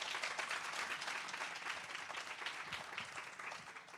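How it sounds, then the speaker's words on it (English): An audience at a residency program coordinators' education retreat gives a presenter a big round of applause, dense clapping that holds steady for several seconds before cutting off. "Give her a big round of applause."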